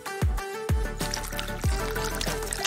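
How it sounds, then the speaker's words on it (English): A melted green candy and cream mixture pours into tilted glasses, heard up close as a steady run of liquid with several soft plops and dribbles across a few seconds, no talk. "Once it's mixed, pour it into tilted glasses."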